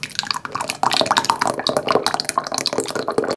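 Thick teriyaki sauce, thickened with dissolved cornstarch, poured over chicken in a kitchen, a steady wet dripping and splattering that runs close and continuous for a few seconds with no talk.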